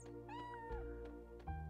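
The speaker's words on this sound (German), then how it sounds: "Und da ist eine Mieze drin." A cartoonish cat meows twice inside the video game Chrono Cross, each call a clear rising-then-falling mew set over steady game music and ambience, fairly close and moderately loud.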